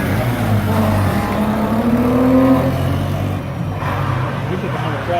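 Stunt car driven up on two wheels at Atlanta Motor Speedway, its engine droning steadily and loud with a rising pitch, under a commentator talking over a public address.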